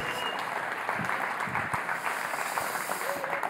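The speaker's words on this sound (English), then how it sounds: "a round of applause" Applause from a church congregation welcoming a guest pastor to the pulpit, a steady wash of clapping that carries on through the whole stretch without words.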